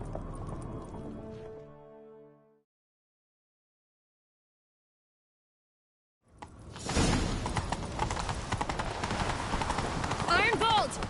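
A horse gallops in the video game The Witcher 3, rapid hoofbeats rushing in loud and close after a musical passage and a few seconds of silence, with swishing movement alongside.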